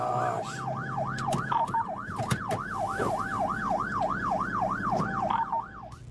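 A police cruiser's siren wails in a rapid, rising-and-falling yelp throughout a highway chase, loud and continuous over road and traffic rumble, with a few sharp knocks and clicks scattered in.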